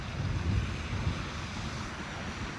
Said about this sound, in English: Very tough with these windy conditions and all those waves and whatnot.